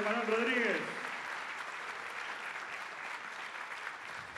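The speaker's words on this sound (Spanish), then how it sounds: "Fuerte los aplausos para Manuela Bruno y Emanuel Rodríguez." Audience applause at a singing workshop performance, a dense wash of clapping that follows the tail of a voice and holds steady to the end.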